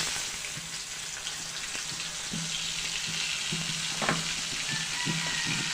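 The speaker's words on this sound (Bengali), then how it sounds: "এখন কেটে রাখা পেঁয়াজ আর কাঁচামরিচ এর মধ্যে দিয়ে দিব।" Chopped onion and green chillies hit hot oil, previously used for frying fish, with a steady close sizzle and crackle filling the pan, plus occasional stirring scrapes and soft clinks throughout.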